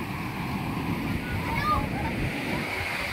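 Big waves surging and splashing continuously around a wooden outrigger boat at sea, with wind adding to the steady roar. It sounds close and loud throughout, with no clear speech.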